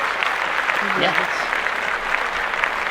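Podcast hosts clap steadily for a few seconds, close and fairly loud, with a voice murmuring underneath.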